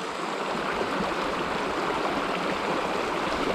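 Fast-flowing trout creek, a close, steady rushing and gurgling of water over rocks with no voices.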